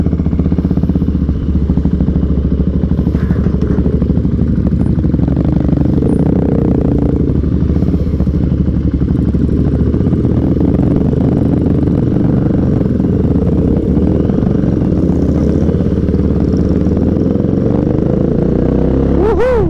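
A Motorstar Cafe 400 motorcycle engine runs close by with a loud, steady, low thumping drone and light mechanical clatter, holding an even pace throughout with no voices over it.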